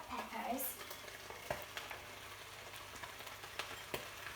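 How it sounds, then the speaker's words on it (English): Peppers being stirred into browned venison mince in a hot pan: quiet sizzling under scraping spoon strokes and a few sharp knocks against the pan, with no speech. "And you're going to give that a good stir."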